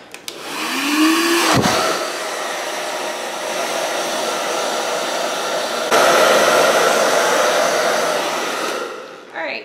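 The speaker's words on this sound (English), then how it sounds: "So I am going to take blow dryer and speed this process up a little bit." A hair dryer blows with a loud, steady airy roar, close by, its tone shifting partway through before it switches off.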